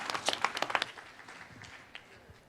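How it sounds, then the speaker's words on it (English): At a startup pitching challenge, an audience claps for the second team: a burst of loud, distinct claps at first, quickly thinning to a few scattered claps. "one more round of applause for our second team"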